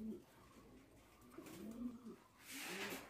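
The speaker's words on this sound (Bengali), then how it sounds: "খুবই চমৎকার এক পেয়ার বিউটি হোমার কবুতর দেখতেই পাচ্ছেন, ডিম নিয়ে বসে আছে" A pair of beauty homer pigeons sitting on eggs coo quietly in a loft. Several low, rolling coos come in soft pulses over about three seconds, with faint rustling near the end.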